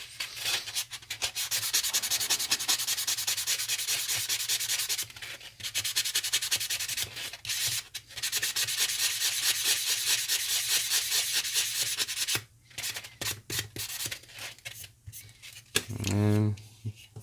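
Sanding block or paper rubbing steadily across a plastic part of a large-scale RX-78-2 Gundam model kit, close and loud in long continuous strokes with brief pauses, ending with a few quick scrapes.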